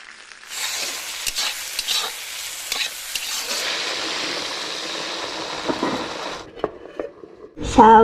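Pigeon meat curry with black pepper frying in a pan, a continuous loud sizzle broken by scraping stirs, with a brief louder clatter at the end.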